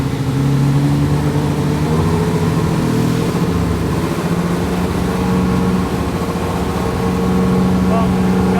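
A 1988 Nissan 300ZX Turbo engine holds a steady 3,500 RPM on a dyno, a loud continuous droning hum throughout with voices talking faintly over it.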